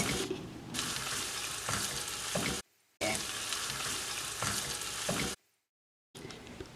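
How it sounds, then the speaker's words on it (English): Garlic frying with golden brown onions in a pan over medium to low heat, a loud, dense sizzle in two long bursts, with brief silent gaps between them. "Now you will add in the garlic and cook for about 1 minute on medium to low heat"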